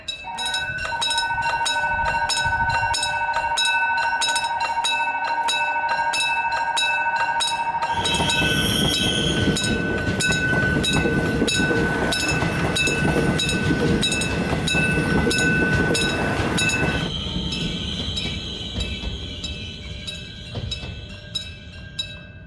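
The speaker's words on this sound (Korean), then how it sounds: "이제 열차가 들어올 시간이군요." A train pulls into Soyosan Station, its rumble and clattering wheels swelling loudly over steady signal tones before easing off at the end.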